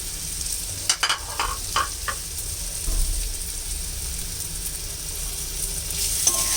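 Boiled potatoes sautéed in a pan for a vegetarian pumpkin, drumstick and papaya dish, a steady sizzle with a few sharp spatula scrapes and clacks early on, close by without speech.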